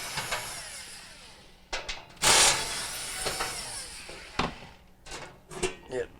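A ratchet wrench working on the bolts holding the flame spreader of a Frigidaire FGF368GMD gas stove, giving short bursts of clicking that stop and start, with a person talking between them.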